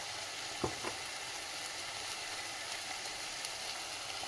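Fenugreek leaves with salt sautéing in a pan for dal methi kadabu, a soft continuous sizzle with a couple of brief stirring scrapes near the start.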